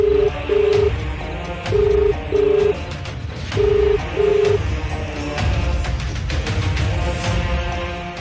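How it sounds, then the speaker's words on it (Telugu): A mobile phone rings unanswered, its electronic tone sounding in three paired bursts with short gaps between them, loud and close over a faint room background. "రింగ్ అవుతూనే ఉంది, లిఫ్ట్ చేయట్లేదు."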